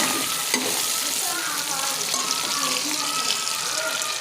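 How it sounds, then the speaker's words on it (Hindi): Sliced onions fry in a kadhai with a dense, continuous sizzle, close and steady, with faint clinks and scraping as they are stirred. "प्याज को हम अच्छे से फ्राई करते हैं।"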